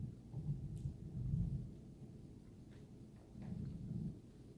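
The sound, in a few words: residual thunder after thunderstorms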